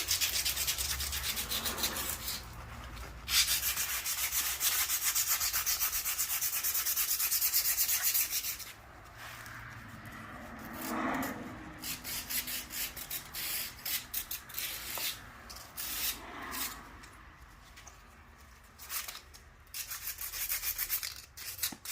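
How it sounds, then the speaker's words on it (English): Old barn find bike parts being scrubbed to remove rust, with repeated close abrasive rubbing and sanding strokes, steady at first and then in irregular bursts with short pauses. "Rust removal, day 1."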